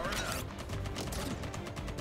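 Rapid bursts of machine gun fire crackle in a dense, noisy mix from the game Contra: Operation Galuga, with music underneath, steady and loud throughout.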